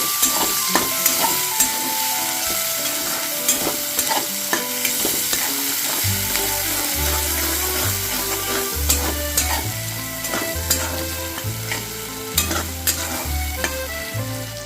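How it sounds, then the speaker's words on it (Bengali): Chopped onion frying in a pan with oil while cooking doi katla, a steady sizzle with repeated stirring and scraping knocks through the second half, no voices. "এবারে এর মধ্যে আমি পেঁয়াজ কুচুনো দিয়ে দিলাম একটা ভালো করে এটা ফ্রাই করে নিতে হবে"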